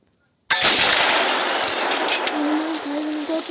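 After a brief silence, a tank fires in a Minecraft tank mod, a sudden loud blast followed by a sustained roaring, crackling wash of noise that stays loud to the end, with a faint tone rising underneath.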